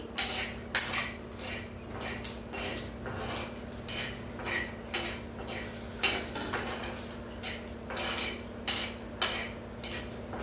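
Flax seeds roasting and being stirred on a hot iron tawa, a steady run of light scraping and clinking ticks over a low constant hum, close and fairly quiet with no talk.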